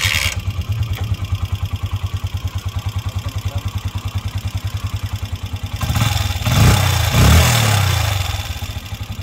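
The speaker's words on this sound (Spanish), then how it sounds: "vamos a echarla a andar para escuchar qué tal suena" A Honda CGL 125 Tool motorcycle, 52,000 km on it, idles with a steady, even single-cylinder putter close by, then briefly revs louder around the middle before settling back to a regular idle.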